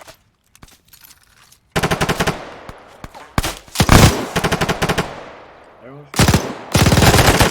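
Rapid automatic gunfire and single shots in ARMA 3 during a training exercise, loud and close, in several long sustained bursts with brief gaps, while a voice briefly speaks over it.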